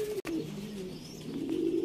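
Rampuri pigeons coo softly in a continuous low murmur, with a single sharp click near the start and no voices.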